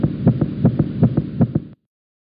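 Heartbeat sound effect added as tension music, a steady lub-dub pulse of about six deep double thumps, loud and close with no talk, ending abruptly.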